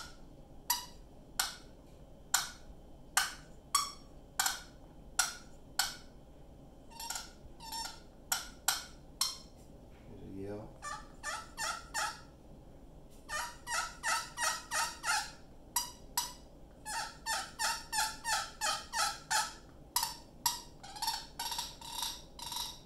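Turkey clucks made on a pecan pot slate call with a red oak striker: sharp, close, high-pitched clicks repeated in irregular single strikes and quick runs, with no talk.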